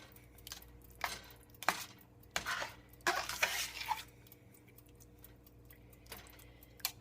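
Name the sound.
stirring eggplant parmesan mixture in a pan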